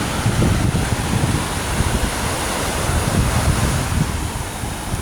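Sea waves wash onto a beach at Pattaya, producing a loud, continuous roar of surf with steady wind rumble across the microphone and no voices.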